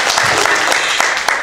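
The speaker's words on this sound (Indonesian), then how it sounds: "tepuk tangan untuk manajer kami" Audience applause for the manager of a house-building contractor team, a dense burst of clapping that fills the room for a moment, steady and fairly loud with a few sharper claps on top.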